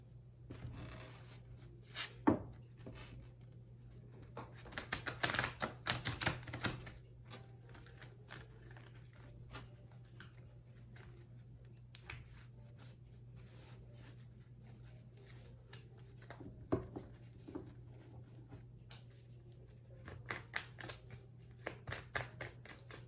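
Quiet, soft shuffling and riffling of tarot cards in bursts, with small taps and rustles against a low steady hum.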